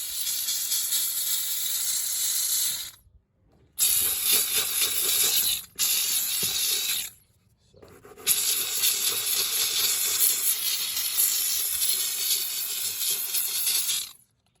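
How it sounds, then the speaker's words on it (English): A Harbor Freight steam cleaner works on the carpet of a Jeep Liberty, letting out loud, steady hissing bursts of steam with short silent breaks between them, up close. "They said to kick it on, it should blow some water out"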